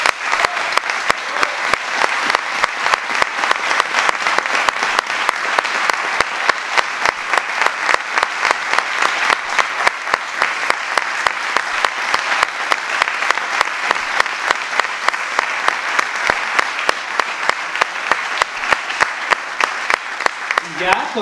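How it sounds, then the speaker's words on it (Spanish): An audience at the closing of the Vitigudino theatre festival claps in a loud, continuous round, the individual hand claps crisp and rapid throughout. "Un aplauso para Marta, por favor."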